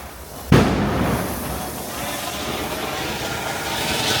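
Firecrackers exploding outdoors at a festive celebration: one sharp loud burst followed by a long crackling, hissing roar that continues steadily to the end.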